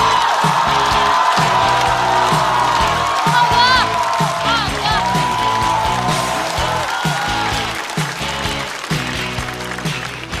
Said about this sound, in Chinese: 掌声欢迎贾浩